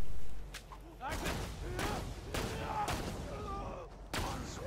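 Grenade mod blasts in the shooter game Borderlands 2 burst out as repeated booming explosions amid gunfire, dense and loud throughout, with players talking over the action.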